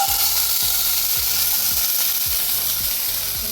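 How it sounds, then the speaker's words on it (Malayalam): Garlic and shallots fry in hot coconut oil in a pan, giving a loud, steady sizzle with soft low thumps recurring every half second or so from stirring. No voices are heard. "അതിൽ കുറച്ച് വെളിച്ചെണ്ണ ഒഴിച്ചിട്ട് വെളുത്തുള്ളിയും ചെറിയുള്ളിയും ആട്ടോ ആദ്യം ഇട്ട് കൊടുക്കുന്നത്."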